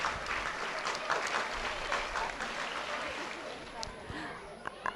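Audience clapping at a school's 77th Independence Day celebration, a sustained crowd of hands applauding at moderate volume that gradually tapers off, with a few scattered louder claps near the end.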